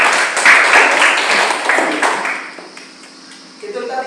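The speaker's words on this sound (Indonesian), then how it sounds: "Berikan tepuk tangan untuk kelompok" A classroom audience applauds presentation group 5 with a burst of dense clapping that fades over a few seconds, then picks up briefly again at the end.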